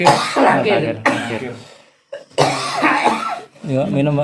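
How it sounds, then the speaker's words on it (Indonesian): A man coughs and clears his throat between bursts of conversational speech indoors, the coughs short and close, while another voice answers and offers him a drink. "Batuk saya ini."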